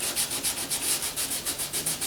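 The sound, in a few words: sanding filler on Ford Flex bumper cover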